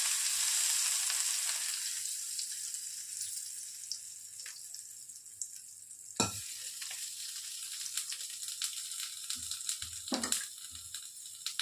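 A hot tempering is added to coriander chutney: a loud sizzle opens and slowly fades to a quiet hiss, broken by a few sharp clinks and stirring sounds.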